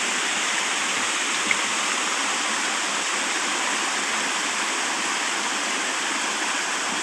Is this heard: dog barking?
no